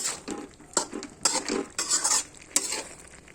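A cooked drumstick dish is mixed with sugar in a pan, a few irregular bursts of scraping and clattering utensil strokes against metal with brief quiet gaps, close and clear, no talking.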